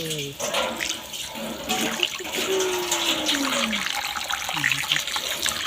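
Watermeal being rinsed in a basin of water, a continuous close swish and splash with gurgling pours, while someone talks over it and a faint rising tone sweeps through the middle.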